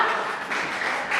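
A college student audience applauds, soft and fairly distant, with sustained, even clapping that swells slightly near the middle and end.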